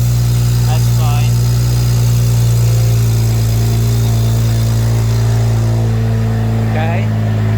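A BMW N54 single-turbo engine idles steadily right after an injector swap, a constant low drone running throughout with people talking over it.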